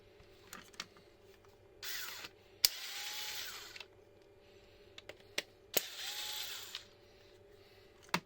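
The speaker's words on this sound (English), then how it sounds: "We need to remove 2 screws." Screws being backed out of the battery box on a Harman/Kardon Onyx speaker, two quiet, separate bursts of small power-driver whirring with faint clicks between them, fairly close.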